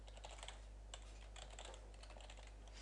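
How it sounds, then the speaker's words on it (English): Quick, faint clicks come from typing on a computer keyboard, tapping in a steady run over a low electrical hum. "So we're gonna type in Google here."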